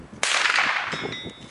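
A sharp, loud crack of a pistol shot hitting a metal gong, followed by a bright metallic ring that lingers and fades as strong wind noise continues.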